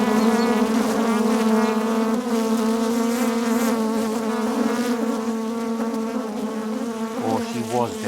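Honey bees swarm loudly around an open hive, a dense, continuous drone of many wings that stays close and steady the whole time.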